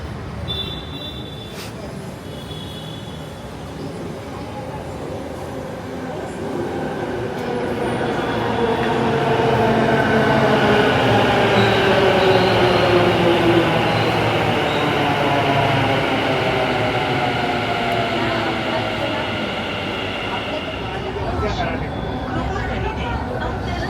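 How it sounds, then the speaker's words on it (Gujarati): A metro train pulls into a station, its rumble and rolling wheel noise building and peaking mid-clip before easing off, with people talking nearby throughout. "મેટ્રો આવી ગઈ હશે કદાચ આવે જ છે"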